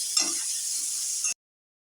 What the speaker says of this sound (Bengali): গরম তেলে তেল নুন দিয়ে দিয়েছি, বেগুনটা দিয়ে দিলাম